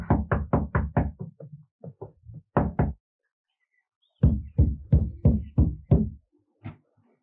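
Someone pounds on a door in two bursts of quick, hard knocks, a rapid run of raps, a pause, then another insistent volley, loud and close.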